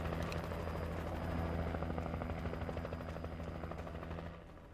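Helicopter rotor and engine drone in the Alan Wake video game, a steady loud whirring thrum that holds throughout and begins to fade near the end.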